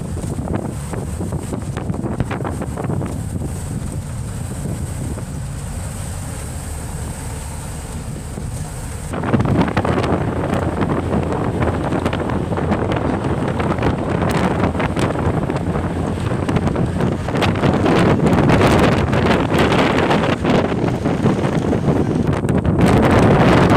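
Strong wind buffets the microphone in a continuous roar, growing rougher and louder partway through, with no voices heard.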